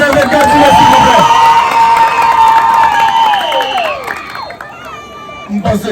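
A loud crowd at a school flag day parade cheers and whoops with sustained applause and children shouting, then the noise fades into scattered claps and a few calls.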